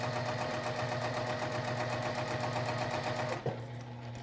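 A sewing machine stitching a fabric seam for a fabric cube organizer, running at a steady fast rhythmic whir up close, then stopping abruptly with a small clunk near the end.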